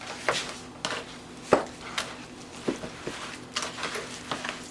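A spoon mixing turkey meat loaf ingredients in a bowl, giving a series of irregular soft knocks and scrapes against the bowl, with one sharper clack, close and fairly quiet.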